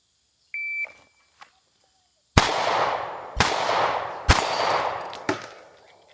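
Three sharp pistol shots from a S&W M&P Shield Plus fired on a range, each a loud close crack with a short decaying tail, spaced about a second apart after a brief electronic timer beep.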